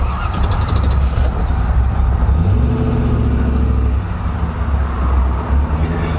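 A Mercedes 380SL R107 roadster with a swapped LS V8 engine pulls away in first gear, a loud, deep, steady engine rumble close to the listener with road noise and no talking.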